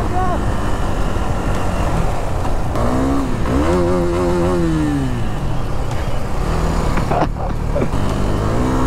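Scooters ride close by on a road between Itahari and Ilam in eastern Nepal, their engines droning loudly and continuously with rising and falling pitch as they rev and pass, while wind rushes past the microphone.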